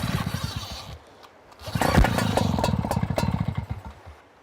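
Pull-cord start of a Wildfire Mark 3 high-pressure pump engine: a brief engine sputter, a short pause, then the engine catches and runs with a rough, loud chugging that slowly eases, close by.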